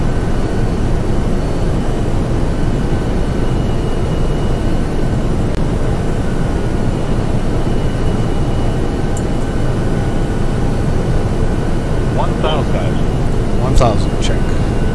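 An Airbus A319 airliner landing, heard from inside with a loud, steady broadband engine and airflow roar throughout, a few faint electronic tones near the end, and voices talking at times under the noise.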